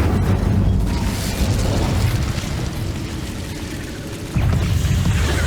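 The Incendio fire spell in Hogwarts Legacy sets off a loud, continuous rumbling whoosh of flame that dips briefly and then surges again near the end, with no voices over it.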